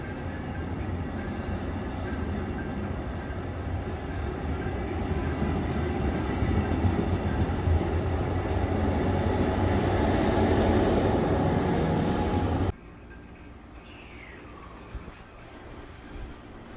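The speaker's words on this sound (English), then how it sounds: "Eventually it goes faster, because you know it's a high-speed rail." A Brightline high-speed train departing West Palm Beach roars past close by with a steady rushing rumble and faint clatter, building louder before cutting off abruptly to quiet background.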